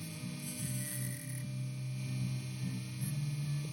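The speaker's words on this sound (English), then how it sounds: "I'm going to come back at it with the grinding wheel on the Dremel" A Dremel grinding wheel shaping a steel pick for an Abloy Classic lock, a steady, fairly quiet whirring hum with a buzzing motor tone throughout.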